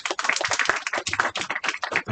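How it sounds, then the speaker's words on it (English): Audience applause for a professor in a university library hall, a dense run of clapping hands that holds steady and loud for about two seconds with no one speaking. "Another round of applause for Professor."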